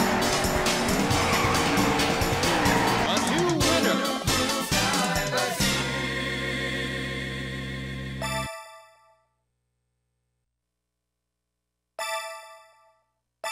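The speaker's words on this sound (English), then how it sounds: "Gentlemen, start your engines." Race car engines roar and tires squeal in Daytona USA on PlayStation 3, a dense loud burst of engine drones that fades to silence, followed by a short clipped burst of sound near the end.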